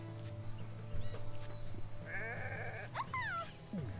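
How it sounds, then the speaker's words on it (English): Cartoonish sheep bleats from the video game Renowned Explorers, several wavering calls arriving in the second half over steady game music, one of them loud and rising. "But look at it! Look at the cute friendly sheep!"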